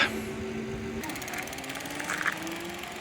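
A Well Toronto electric bicycle riding under motor power, giving a steady mechanical whine and whir with faint ticking, close and continuous throughout.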